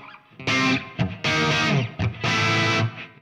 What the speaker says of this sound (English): let's add a little bit more reverb